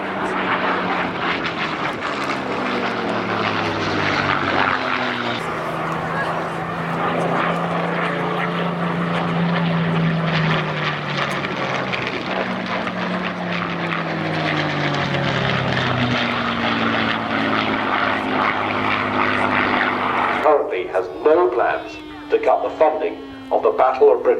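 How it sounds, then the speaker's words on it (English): Spitfire Mark 9 and Mark 16 fighters fly over an airshow arena at Farnborough, a sustained propeller engine drone rising and falling in pitch as they pass, with a voice talking over the roar. "Two very different Spitfires. They will come in to take the arena."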